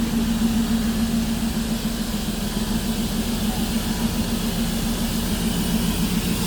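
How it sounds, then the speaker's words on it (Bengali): The Darjeeling toy train gives off a continuous loud, low engine rumble and roar that holds steady throughout, with no voices. "আর এটা হলো toy train, Darjeeling famous toy train."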